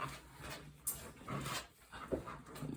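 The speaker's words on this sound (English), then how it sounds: "Let the dogs out." Dogs panting quietly indoors, short breathy huffs in an uneven rhythm with a faint whimper, close but soft, no talking.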